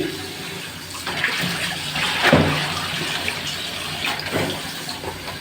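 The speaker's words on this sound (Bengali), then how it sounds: "এখন আমি ভালো করে ওগুলো ধুয়ে নিতেছি" Vegetables, potatoes among them, being washed under running tap water: a steady close splash and gush of water with brief sloshing bursts as the pieces are rubbed and turned, no talking.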